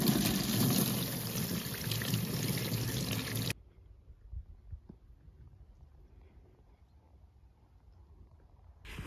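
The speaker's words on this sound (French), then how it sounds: "j'ai vu que l'eau coulait bien sur le point d'eau indiqué au cimetière" Water gushes from a public tap at a cemetery water point in the Ardennes, a steady loud rush for a few seconds. It then cuts off abruptly, leaving quiet outdoor ambience with faint rustles.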